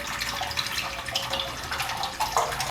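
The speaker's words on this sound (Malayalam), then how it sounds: "ഫസ്റ്റ് നമുക്ക് ഒരു പാനിലേക്ക് നൂഡിൽസ് വേവിച്ചെടുക്കാൻ മാത്രമുള്ള വെള്ളം ചേർത്ത് കൊടുക്കാം." Water poured into a cooking pan for boiling noodles, a short, faint splashing trickle that runs continuously.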